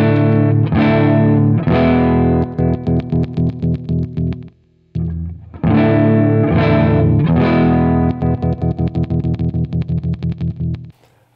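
Electric guitar chords shaken with vibrato, one pickup turned down or off, giving a wavering, pulsing tone. Two long strummed chords ring loud and close, each breaking into rapid throbbing tremolo pulses before dying out, no voices.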